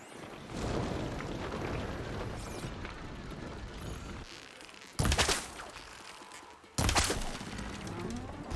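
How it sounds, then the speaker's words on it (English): Bridge collapsing in Horizon Forbidden West, a long rumbling crumble of heavy debris followed by two sudden loud crashing impacts, game sound with no talk. "Bridge is down."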